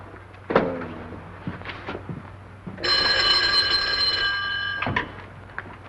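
An old-fashioned telephone bell rings once in a sustained, bright burst of about two seconds in a 1939 Hollywood thriller scene, following a few faint bumps and shuffles in a quiet room.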